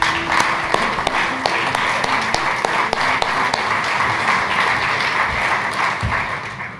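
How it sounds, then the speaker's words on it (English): An audience at a design and AI conference claps for the road crew, a steady broadband patter of many hands holding at a fairly even level throughout with no talk. "can we get a big round of applause for the road crew?"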